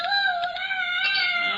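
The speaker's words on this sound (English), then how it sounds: "That noise is either my friend Oreo or it's Tarzan hollering for his mate" A loud, wavering hollering wail, like a Tarzan call, played as a sound effect in an old-time radio comedy, lasting under two seconds without speech.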